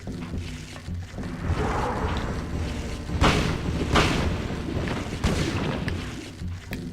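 Gunfire hits a wall in the video game Silent Hill, a dense rumbling barrage of booming shots with a few stronger blasts rising from a steady loud bed of noise, no voices.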